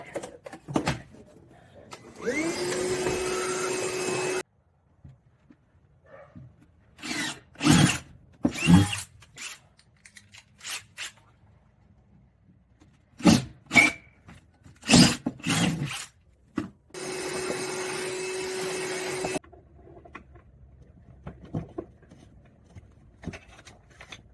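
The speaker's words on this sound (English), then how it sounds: "I think I'm going to vacuum that really fast" A household vacuum cleaner runs in two sustained bursts of steady motor whine, loud and close, separated by scattered clunks, knocks and handling noises from tool work on a trailer tongue jack.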